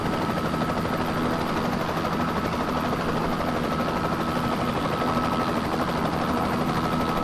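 A Bell 206B-3 Jet Ranger helicopter with a 250-C20B turboshaft engine runs loud and close, its rotor beating in a steady rapid thrum over a continuous turbine whine, with no voices.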